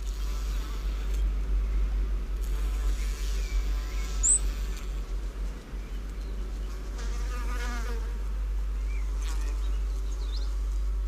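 Insects buzz around nectar-rich flowers in Australia, a continuous close droning hum with shifting wingbeat tones, a few faint chirps and bird-like calls above it.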